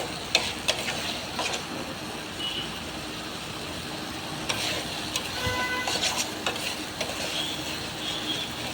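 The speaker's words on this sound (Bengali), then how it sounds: "ভালোভাবে নেড়ে চেড়ে নিয়েছি" Rohu fish masala is stirred in a pan, a soft steady sizzle with scattered clicks and scrapes of the spatula throughout, close and moderately quiet.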